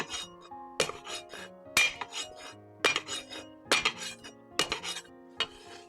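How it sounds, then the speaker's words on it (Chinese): Garlic cloves smashed with a cleaver on a kitchen board for a chili pepper stir-fried pork dish: six or seven sharp, ringing whacks at a steady pace, close and clear with no talk. "我们多拍点蒜子"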